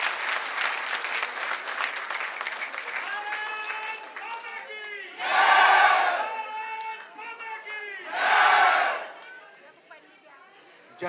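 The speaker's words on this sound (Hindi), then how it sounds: "एक बार शानदार ताली बजाकर माननीय पीयूष गोयल जी" A crowd at a political gathering in Rajasthan welcomes minister Piyush Goyal with applause and cheering. Continuous clapping rises into two loud bursts of cheers and whoops, while a voice talks over a public address system between them.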